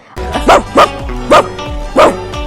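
A woman imitates a dog barking, giving four loud, sharp woofs in an uneven rhythm, close and clear with no other talk.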